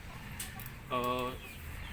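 A rooster gives a single short harmonic cluck-like call of about half a second, set against a soft background of low rumble and faint voices during a livestock practical session.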